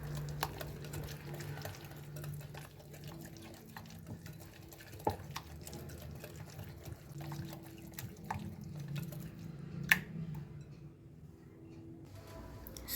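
Green chicken tikka spice paste stirred in a bowl, a soft, continuous wet squelching and scraping with occasional sharper clinks, steady and fairly quiet throughout.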